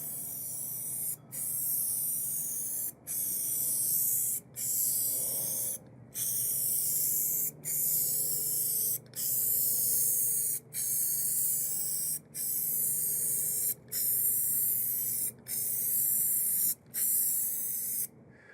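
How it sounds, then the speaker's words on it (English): A spray gun lays down coats of Lac R' Shot lacquer finish in a long series of steady hissing bursts, each a second or so long and separated by brief pauses, close and fairly loud. "since I'm going to build it, I'm going to spray some more."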